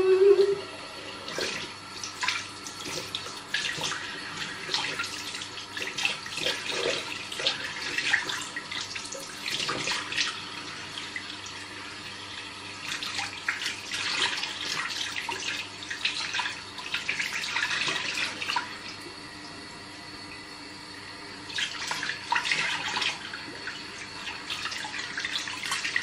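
Tap water runs steadily into a sink while a face is rinsed, splashing and shifting in level as hands move through the stream, close and continuous with no talk.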